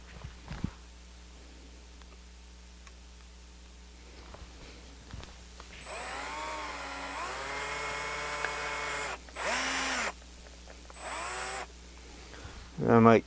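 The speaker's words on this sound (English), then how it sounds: "We're going to take the number 40 drill and see if we can get down into the rivet." A number 40 drill bores into a rivet on a Zastava M76 rifle, a steady high whine with harmonic bands starting around six seconds and running in bursts with brief pauses, fairly close.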